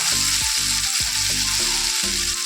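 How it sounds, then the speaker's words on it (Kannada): Small-cut potatoes frying in a pan, a loud continuous sizzle with periodic stirring scrapes recurring every half second or so, close and without talk. "ಚೆನ್ನಾಗಿ ಫ್ರೈ ಆಗಿದೆ."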